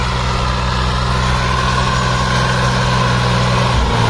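A Swraj 735 FE tractor engine idles steadily and loudly up close, a constant low throbbing rumble with no talk.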